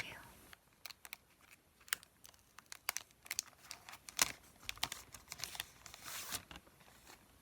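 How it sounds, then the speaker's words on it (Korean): Plastic vinyl packaging is peeled and crinkled off postcards up close, a string of sharp crackles and rustles with brief tearing bursts, intimate and quiet. "지금 비닐 포장을 빼서 보여드릴게요."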